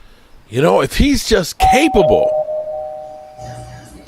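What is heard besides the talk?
doorbell ringing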